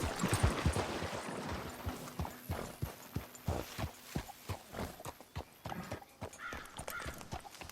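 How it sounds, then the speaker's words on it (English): Steady clip-clop of horse hooves at a walking pace in Red Dead Redemption 2, moderately close, with a brief whinny near the start. "Careful with that horse, Arthur."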